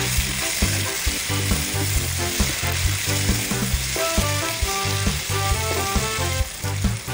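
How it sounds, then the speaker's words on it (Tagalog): Onion, garlic, ginger and tomatoes sizzle steadily in a pan for pinakbet, with a constant frying hiss and occasional stirring, while music plays throughout and no one speaks. "pag nagisa na at nag-brown na siya, pwede na natin ilagay ang kamatis"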